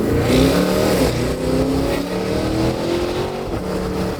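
A supercharged V8 Cadillac Escalade-V roars loudly up close as it accelerates hard, engine note climbing and dropping through quick upshifts with no talk over it.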